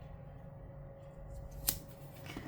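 Scissors snipping a planner sticker sheet, a single quiet, sharp cut near the end over a faint steady hum.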